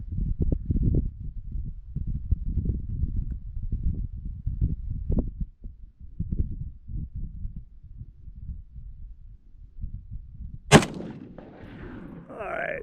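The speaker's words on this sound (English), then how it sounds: "I'll fire one more shot" A single sharp, loud rifle shot from an FN FAL SA58 at an outdoor range in Las Vegas, cracking out near the end after several seconds of low rumbling wind noise, followed by a brief echoing tail.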